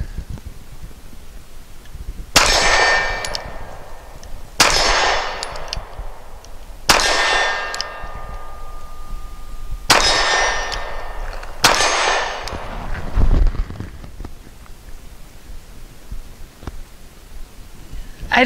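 A handgun is fired at a shooting range with five loud, sharp shots spaced a few seconds apart, each ringing out with a metallic echo and decay.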